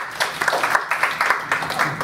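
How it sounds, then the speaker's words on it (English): Applause from a conference audience after a speaker's introduction, short and moderately loud with bursts of clapping rising and falling over about two seconds. "Can we give him a round of applause?"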